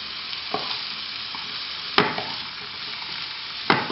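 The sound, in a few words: stirring broccoli and carrots frying in a pan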